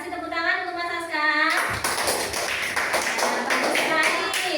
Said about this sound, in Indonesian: kasih tepuk tangan untuk Mas Aska